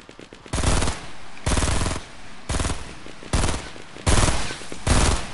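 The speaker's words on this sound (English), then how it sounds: "Oh, no, who's shooting?" Automatic gunfire in a multiplayer shooter video game, six loud sustained bursts in a regular rhythm with short gaps between them.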